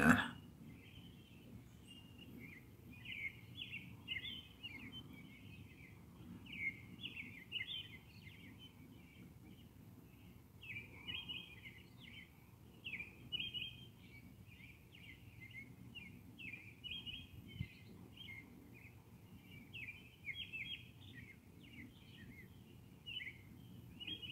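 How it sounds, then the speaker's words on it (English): Birds chirp outdoors on a Saturday morning, a steady stream of small, high twittering calls somewhat distant over a low ambient hum, with no talking. "Birds are basically chirping outside"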